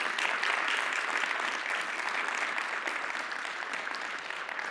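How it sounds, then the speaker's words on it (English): Sustained audience applause at a school district mental health event fills the room steadily, loud and dense throughout, slowly tapering slightly toward the end with no speech over it. "huge round of applause for Dr."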